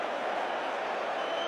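Large football stadium crowd applauding a spectacular strike at a Bristol Rovers match, a dense, steady wash of clapping and crowd noise at even loudness throughout, with no voices standing out.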